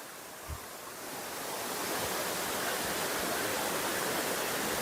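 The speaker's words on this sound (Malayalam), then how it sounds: "വെള്ളത്തിന്റെ സൗണ്ട് കാരണം ഞാൻ പറയുന്നത് കേൾക്കാൻ പറ്റുമോ എന്നറിയില്ല" Aruvikkachal waterfall in Kottayam roars as a broad, continuous rush of falling water, building up within the first seconds and then holding loud and steady close by.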